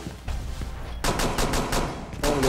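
Rapid automatic gunfire in the video game Tom Clancy's Rainbow Six Siege comes as loud close bursts of fast repeated shots. A sustained volley is followed by a brief pause and then another burst.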